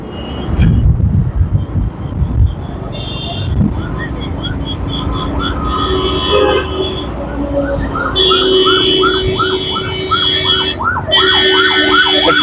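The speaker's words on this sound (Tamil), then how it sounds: "இங்கே வந்து ஒரு ஆம்புலன்ஸ் எவ்வளோ அவசரமாக வராங்க பாருங்க" An ambulance siren wails in busy road traffic on Velachery main road toward Tambaram, rising from a distant warble to a loud, near, repeating two-tone sweep while engines and horns rumble underneath.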